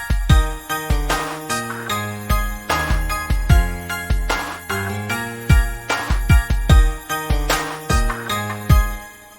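A Christmas beat with punchy drums, piano chords and soft synth pads, a steady rhythmic groove with bright tinkling accents and deep kicks, loud and full throughout.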